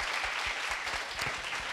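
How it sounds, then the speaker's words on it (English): Meetup audience in Kuala Lumpur applauding themselves, a short, steady burst of many hands clapping together, even in level from start to finish. "Give yourself a round of applause."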